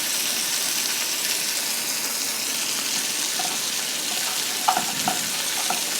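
Mackerel and fish roe frying in hot oil in a pan, a steady broadband sizzle running evenly throughout, with a few brief clinks near the end and no voices.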